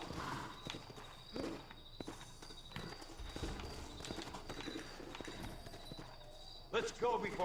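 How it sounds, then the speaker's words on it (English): Horse hooves clip-clop steadily in a Red Dead Redemption western game on Xbox One, a rhythmic mid-level patter running throughout beneath a speaking voice and ambient game sound. "Looks like Carlos left us some horses."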